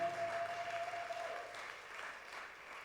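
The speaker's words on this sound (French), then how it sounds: "Give a hand to Jesus." A church congregation at a fasting and prayer service applauds, a steady wash of clapping that stays fairly even and slowly fades, heard with some room distance.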